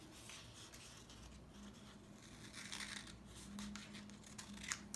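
Scissors snip through folded paper to make a paper snowflake, giving quiet, close crisp cuts and rustling in an irregular rhythm, with no voices.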